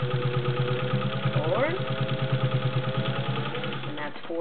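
A vintage Singer 201-2 sewing machine with a potted motor runs steadily while stitching through layers of leather, a fast regular mechanical hum and clatter close by, with a brief shift in tone partway through.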